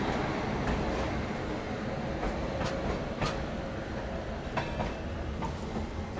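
Secunderabad Duronto Express running, heard from inside a sleeper coach: a steady loud rumble of wheels on rails with periodic clickety-clack joint beats and occasional rattles.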